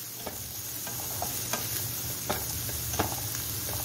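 Diced onion fries with a soft, steady sizzle in a pan while a spoon stirs it calmly, giving a few light scrapes and taps against the pan; fairly quiet, no voices.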